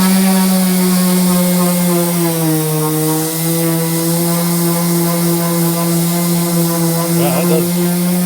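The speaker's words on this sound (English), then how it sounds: "I have absolutely no problem with this sander." A TOPSHAK 5-inch random orbit sander with 180 grit paper runs continuously, a loud, steady, close-up motor whine with sanding friction and no pauses.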